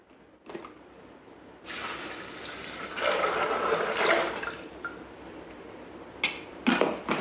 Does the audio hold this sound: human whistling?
no